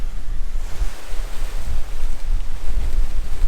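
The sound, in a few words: strong hurricane wind blowing on the microphone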